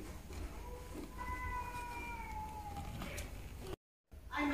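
A male cat in La Union, Philippines, gives a drawn-out meow followed by a second one, moderately close over faint background noise, ending in a brief silent gap and a burst of rustling.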